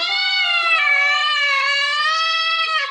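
A human voice imitates kittens meowing, giving one sustained, wavering high-pitched meow that sounds close and clear and carries on unbroken for about three seconds without pause.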